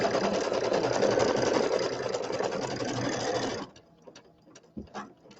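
Embroidery machine sewing out a quilt block: a steady, close, rapid mechanical chatter for several seconds that stops abruptly, followed by a few faint knocks and clicks in a quieter room.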